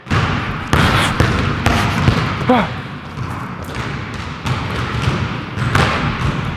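A basketball is dribbled and bounced on a court, giving repeated thuds at an uneven pace, close and fairly loud, with sneaker squeaks and some background noise.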